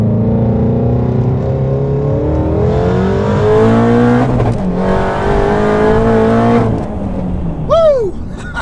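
An 800-horsepower twin-turbo Shelby GT350 on 93 octane pulls hard in second gear, its loud engine note climbing steadily through the rev range, then a brief dip as it shifts. A short sharp whistle or chirp comes near the end.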